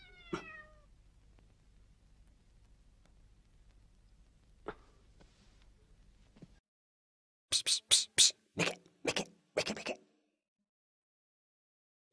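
A cat meows in a short series of about six loud, close calls in quick succession, after a quieter stretch with a brief earlier cry and low background hum.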